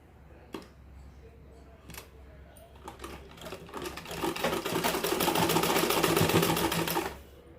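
A sewing machine stitches a straight line along a marking on blouse lining fabric, starting with a few separate clicks and then running into a fast, loud, steady whirring rattle that stops suddenly near the end.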